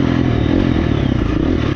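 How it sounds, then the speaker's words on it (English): A KTM 300 XCW dirt bike rides a single-track trail, its engine a loud continuous rough drone mixed with clattering and scraping, close and alone without talk. "Today we're going to be testing out the KTM 300 XCW on one of our local single track loops."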